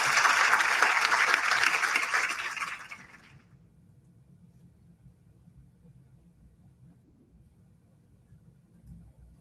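Convention audience applause for a Chucky reunion panel with Brad Dourif, Fiona Dourif and Alex Vincent, a loud burst of clapping for under three seconds that cuts off abruptly into faint room rumble.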